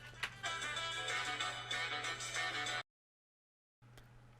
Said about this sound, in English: Oh, sorry, that was a phone call.